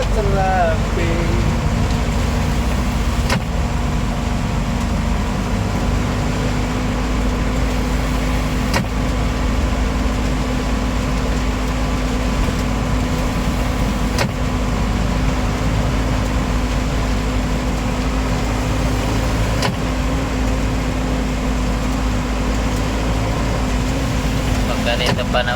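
Traffic crawls along a road in heavy rain in Marilao, Bulacan. A steady, unbroken rumble of engines and wet road noise lasts throughout, with a brief voice near the start.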